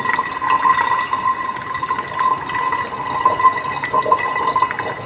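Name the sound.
mango juice being poured into a pan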